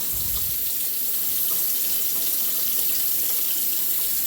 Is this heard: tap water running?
yes